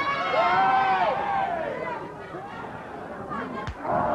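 A wrestling crowd at a World Championship Wrestling bout on Channel 9 in Australia roars and chatters in a loud, steady wash of voices that swells and dips, with a sharper shout near the end.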